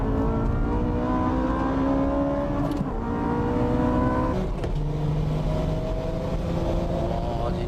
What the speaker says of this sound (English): The Porsche with the mid-speed acceleration.